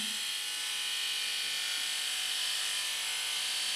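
Micro Touch Switchblade electric beard trimmer running, a steady high-pitched buzzing whine held close and constant without pauses or voices.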